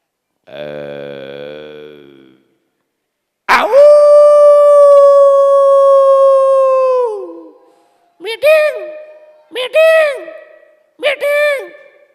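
A voice imitates dogs, first a low growl, then a long sustained howl, followed by three short yelping howls.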